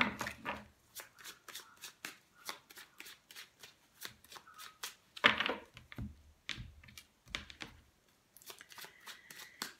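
An oracle card deck is shuffled close up in quick repeated riffles and soft slaps, bursts of crisp card flutter separated by brief pauses.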